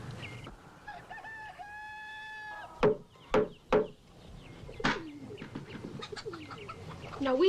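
A chicken clucking and squawking close by on a farm, with a run of sharp, loud clucks in the middle and softer calls around them.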